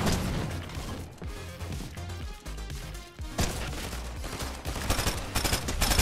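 Rapid Fortnite gunfire with shotgun blasts, loud and close, firing in dense overlapping bursts with a brief lull midway before the shots resume just as heavily.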